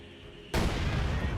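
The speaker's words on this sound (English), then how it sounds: "I think it was 150 millimeter mortar." A 150 mm mortar shell explodes in the Company of Heroes 2 strategy game, a sudden loud blast that cuts in halfway and then roars on as a sustained broadband rumble.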